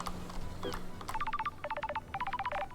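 An incoming call in the video game Paradise Killer, heard as a series of short electronic tone bursts in quick repeating groups, fairly loud and alone.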